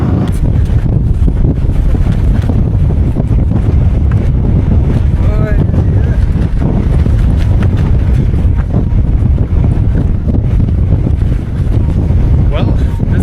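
Strong wind roars against the microphone while cycling along China's National Highway 314 in Xinjiang, a loud, constant buffeting rush with a voice faintly heard under it.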